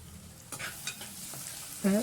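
Ginger and garlic sauté in a hot pan for paneer biryani, a soft close sizzle with a few stirring scrapes, ending in a brief louder clatter.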